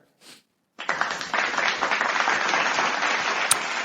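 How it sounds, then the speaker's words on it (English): Hand clapping by a group in a classroom setting, starting abruptly after a short pause and a brief sound, then holding as loud, dense, continuous applause. "Let me clap for her."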